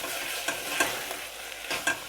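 Torn basil stalks sizzling in a pan of hot onions for a basic tomato sauce, a steady close hiss of frying with a few brief scraping stirs and clinks, no voices.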